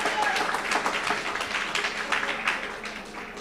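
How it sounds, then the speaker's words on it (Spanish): A church congregation in Bonaire applauds in a dense, loud burst of clapping that carries steadily to the end. "Con un aplauso al Señor."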